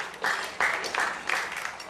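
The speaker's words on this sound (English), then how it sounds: "I think he deserves another round of applause for that." Audience at an award dinner night clapping in a brief round of applause, a dense wash of overlapping claps that swells in short surges, with no talk.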